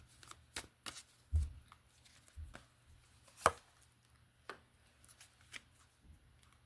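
Tarot cards are shuffled and handled close up, giving soft, irregular papery riffles and taps, some faint and one sharper snap, in a quiet room without talking.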